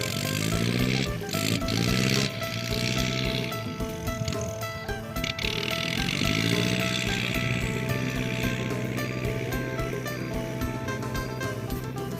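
A walk-behind tractor engine runs steadily and loudly throughout with a constant mechanical drone and rattle while a rice field is prepared before planting; no voices.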